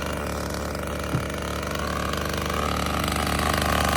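A chainsaw engine runs steadily nearby, a buzzing drone that rises slightly in pitch toward the end, with one faint thump partway through.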